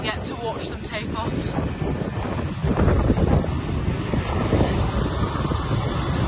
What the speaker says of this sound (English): Actually, it's so windy.